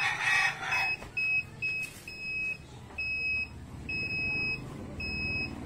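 A digital thermometer alarm beeps in short, regular high-pitched pulses, repeating about once a second at moderate loudness over quiet room noise.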